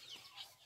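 A chick peeps in a backyard: a few faint, short, high-pitched chirps in quick succession.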